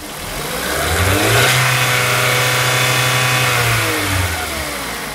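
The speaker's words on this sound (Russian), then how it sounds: "Работа двигателя на 4000 оборотов." A VW CFNA car engine for a 2011 Jetta revs and holds at a steady 4000 rpm, a loud, sustained mechanical drone that rises briefly at the start and stays even throughout.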